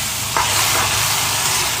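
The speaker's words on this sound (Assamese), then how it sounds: "পিঁয়াজখিনি ফ্ৰাই হ'লত কচুখিনি ঢালি দিলোঁ" Chopped taro dropped into a pan of frying onions, giving a steady close sizzle with a brief stirring scrape near the start.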